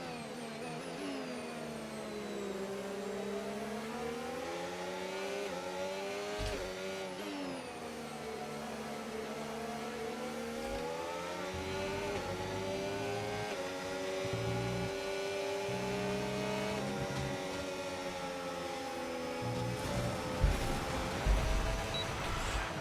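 An F1 race car engine in a racing video game, holding a steady high-pitched whine that climbs and dips as it accelerates through gears, continuous and close throughout.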